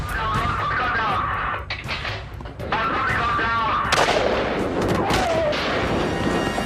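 A sniper's rifle fires at a fleeing outlaw during a helicopter police chase, sharp booming reports cracking out in several bursts over a busy, noisy background.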